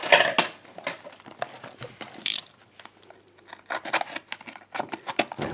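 A cardboard box is sliced open with a blade, close-up, giving a run of sharp scraping cuts and crackling rips with pauses between strokes.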